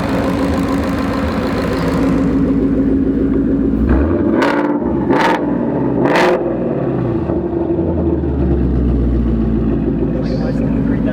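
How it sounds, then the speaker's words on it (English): A 2019 Ford Mustang GT with a Roush axleback exhaust rumbles steadily up close, with a few sharp blips near the middle as the engine is revved, under background chatter. "You want to give it a few revs real quick?"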